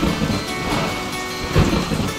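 Heavy pouring rain hisses steadily while a deep rumble of thunder rolls underneath, with a louder swell near the end; no voices.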